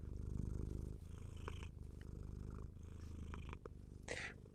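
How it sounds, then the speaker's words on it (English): A cat purrs close to a microphone, a steady, rumbling low purr pulsing in rhythmic cycles throughout, with a brief soft snort-like sound near the end. "Hear the purring."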